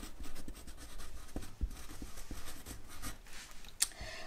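A pen sketching a garment piece on paper, marking a side seam for knit fabric sewing, with a steady run of soft scratchy strokes and light taps, close and alone throughout.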